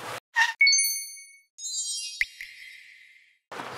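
A short camera recording-start chime made up of a few bright, tonal ding notes, heard alone and fairly quiet between brief bursts of outdoor rustling at a campsite.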